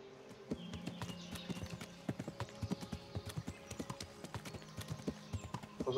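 A horse walks with steady clip-clop hoofbeats, close and distinct, the footfalls quickening slightly toward the end.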